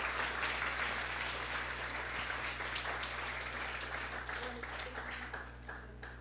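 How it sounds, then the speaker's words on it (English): An audience applauds to welcome a speaker at an open class of a summer school held on a Saturday, the clapping dense and sustained throughout, easing off slightly toward the end. "Could you all please give a big round of applause"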